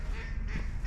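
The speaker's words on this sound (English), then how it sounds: "quack, quack, quack, quack. Ducks." Ducks quacking near a canal mooring spot among locks, a short run of nasal calls over steady outdoor background noise.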